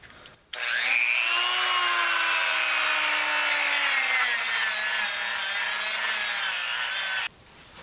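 A power tool polishes Proto nut drivers with number 7 polishing compound, starting abruptly, then running as a steady high whine with a slowly falling pitch for several seconds before cutting off.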